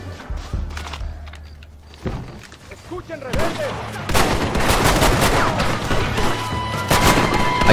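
A powerful gun firing in Red Dead Redemption during a town shootout, a few scattered shots that build into a loud, dense volley of gunfire with echoing reports.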